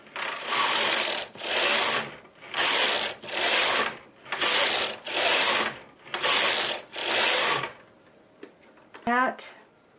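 A knitting machine carriage sweeps back and forth over six needles in hold while knitting fern lace rows: eight loud, evenly spaced rasping passes, followed by quieter clicks and a short ratcheting burst near the end.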